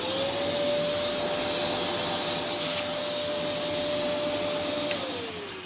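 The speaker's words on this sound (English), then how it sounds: "vacuum cleaners for picking up messes" A household vacuum cleaner runs steadily and loudly throughout, with a constant motor whine over a broad airy roar, then tapers slightly at the end.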